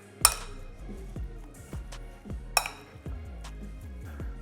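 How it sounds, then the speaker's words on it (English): A utensil stirs and breaks up canned tuna salad in a bowl, making faint clinks and scrapes against the dish. A few sharper taps sound irregularly in a quiet kitchen. "we're just gonna break up this tuna. Stir all this together."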